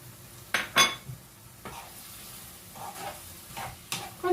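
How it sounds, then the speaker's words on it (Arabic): Onions fried in olive oil with salt, black pepper, turmeric, spice blend and caraway in a frying pan, giving a soft steady sizzle broken by a few sharp clinks and scrapes of a spoon against the pan. "خليهم يتقلوا يطيبوا هكا بالكدا بالكدا، ما نزيدهمش الماء، خليهم يطيبوا هكاك في الزيت ويتقلوا مع البصل"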